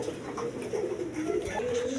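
Rasgolla pigeons coo in a steady, overlapping murmur, moderately close, with soft throaty rolls rising and falling throughout.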